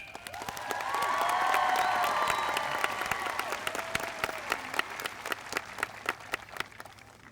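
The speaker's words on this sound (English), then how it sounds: "Let's give a round of applause for that." A crowd at a high school graduation bursts into applause with cheering and a few whistles, swelling quickly, then thinning out into scattered individual claps.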